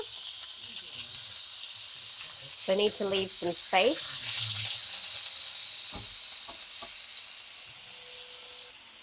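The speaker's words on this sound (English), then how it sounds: "now we put the meat a bit at a time so that it browns" Beef browns in a hot pan for beef bourguignon, a steady close hiss and sizzle that carries throughout, with a person speaking briefly over it midway.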